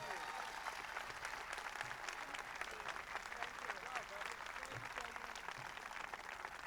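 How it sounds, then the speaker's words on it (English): Audience applauding an introduced speaker at a 1996 presidential event in Providence, Rhode Island, steady sustained clapping from a large crowd, fairly distant and faint. "Give her a warm round of applause."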